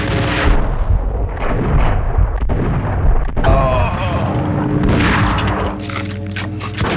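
Loud, close gunfire in the Max Payne video game: heavy booming shots and blasts in rapid bursts that fill the whole stretch.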